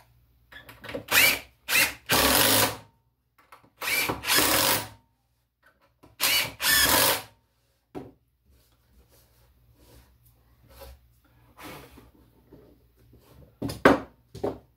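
A power drill boring holes in wood while building a shaving horse, several short loud whirring bursts separated by quiet pauses, close by.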